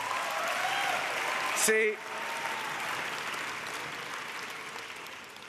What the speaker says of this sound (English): round of applause for Terry